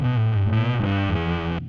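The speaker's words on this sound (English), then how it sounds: "There's so much reverb on that bass right now." A bass guitar drenched in heavy reverb and distortion plays a short run of sustained, rich notes in a home beat-making session, loud and close, before cutting off abruptly into a brief reverberant tail.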